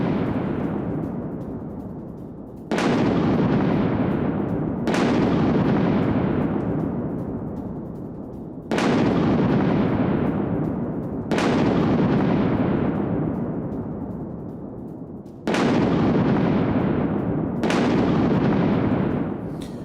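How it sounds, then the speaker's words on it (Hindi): Air strikes on the Iranian port city of Bandar Abbas: six loud, heavy booms, each a sharp blast that trails into a long rumbling decay, spaced a few seconds apart. "ईरान की पोर्ट सिटी में भीषण धमाका हुआ है।"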